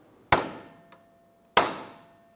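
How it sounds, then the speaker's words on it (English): Two sharp metallic hammer strikes on a chisel staking the axle nut of a 2014-2019 Toyota Highlander, about a second apart, each ringing briefly before fading into silence. "Using a hammer and a chisel, go ahead and stake the axle nut."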